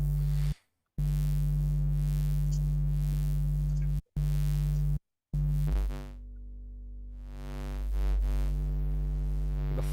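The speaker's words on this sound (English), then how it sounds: "So I have just this bass sound. It's a sub, it's a sine wave, and then a saw wave with phase distortion" Synth bass made of a sub sine wave layered with a phase-distorted saw wave, held as a loud buzzing sustained tone with brief cut-outs and a swelling low rumble toward the end.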